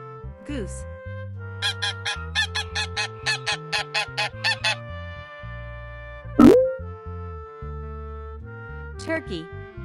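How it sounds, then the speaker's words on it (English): A goose gives a rapid run of loud, evenly spaced honks in an animal names and sounds lesson, set against light background music and followed by a springy sound effect. "Goose."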